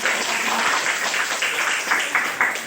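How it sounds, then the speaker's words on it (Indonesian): A classroom of pupils clapping together during an Indonesian-language lesson, a dense, steady patter of many hands with a few sharper claps toward the end. "tepuk tangan"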